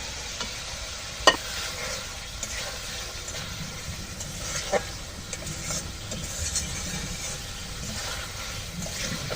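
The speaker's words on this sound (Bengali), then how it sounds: "এখন এই মাছ তরকারি দিয়ে আবার সুন্দর করে কষাবো।" Small China puti fish with potato and green banana are stirred through spice paste in a pan, with a low steady sizzle, soft scraping strokes and a couple of sharp clinks of the utensil.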